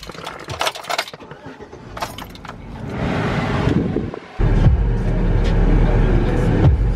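An old work truck sets off after jangling keys and door sounds, then its engine and road noise build into a steady, loud rumble with wind buffeting.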